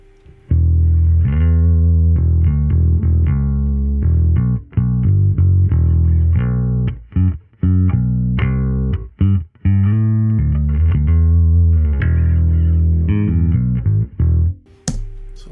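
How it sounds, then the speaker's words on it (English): Electric bass played through a Line 6 POD Go multi-effects modeler, a steady run of sustained, slightly gritty notes with short gaps, loud and close, no talking. "So anyway, here is bass with the Pod Go."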